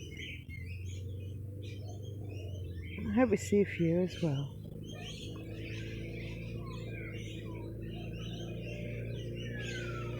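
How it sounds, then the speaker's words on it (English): Birds sing outdoors with faint, scattered high chirps running through the whole stretch, while someone speaks briefly near the middle over a low, steady background hum. "she was listening to the birds outside here."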